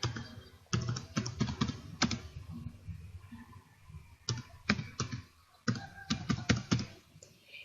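Footer text being typed on a computer keyboard, with close, clear bursts of rapid key clicks separated by short pauses and no talking.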